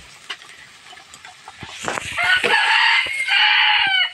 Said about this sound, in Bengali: তোমার এই মুরগিটা ধরবা না